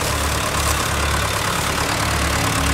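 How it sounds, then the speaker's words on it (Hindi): A tractor engine runs steadily while hauling a load of sugarcane out of a field, a constant loud rumble with no pauses or voices. "इस तरीके से ट्रैक्टर चलेगा"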